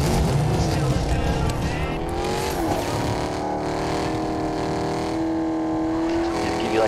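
A car in a video game drives with a loud, steady engine drone that climbs and shifts in pitch as it accelerates, with a few faint voices underneath.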